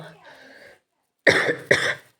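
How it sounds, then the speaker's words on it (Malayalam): A short, faint sound comes first, then two sharp coughs close together, loud and near. "ചെറുതുകൾ ഒറ്റ സ്ഥലത്ത് നിന്ന് കിട്ടണ ചുമയാണ് ഗൈസ്"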